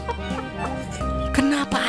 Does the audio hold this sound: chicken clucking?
yes